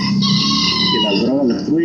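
Chickens cluck and a rooster crows nearby on a remote ranch, their calls layered over a steady background of farmyard noise.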